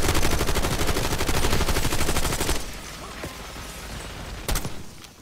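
Rapid automatic gunfire in Call of Duty Black Ops 6 rattles continuously for a couple of seconds, then gives way to quieter scattered shots and mechanical clatter, with one sharp louder burst near the end.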